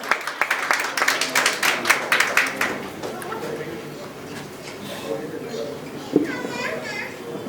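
Applause greets film director Rajasenan as he is welcomed onto the stage at an award event, a burst of dense clapping that fades after a few seconds into murmuring and scattered voices.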